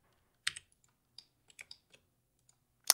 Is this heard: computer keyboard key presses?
yes